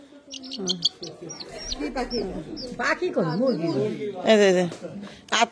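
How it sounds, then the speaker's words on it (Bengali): A bird calls repeatedly in short chirps and coos, close by, mixed in with people talking over it. "এটা হলো বিয়ানের পোষা পাখি"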